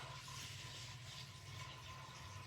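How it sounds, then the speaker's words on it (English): Water pours steadily from a large bucket into a plastic foot spa massager basin, a continuous broadband splashing and rushing that fills the whole stretch at close range with no talking. "I got a big bucket of water here. This is going to be fun to fill."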